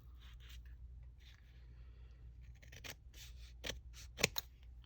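Scissors cutting through paper on a journaling page, a few soft snips and slicing scrapes close by over a low steady hum, growing sharper toward the end.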